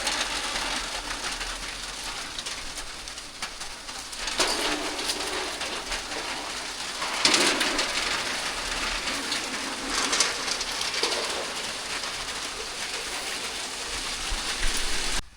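Rain falls steadily outdoors at a rural Thai brickmaking site, a dense continuous hiss with gusts of heavier downpour, while doves coo faintly in the background.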